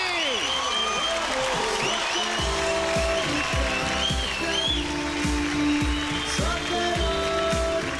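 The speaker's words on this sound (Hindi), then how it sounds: "तालियां बजती रहनी चाहिए।" Audience applause at a Hindi poetry show, a steady dense wash of clapping that runs throughout, loud and continuous, with music and a voice layered over it.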